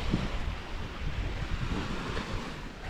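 Ocean waves on a beach wash in steadily, a continuous loud rushing surf with wind noise buffeting the microphone, and no voices.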